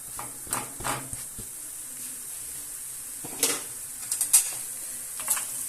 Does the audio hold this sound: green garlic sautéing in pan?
yes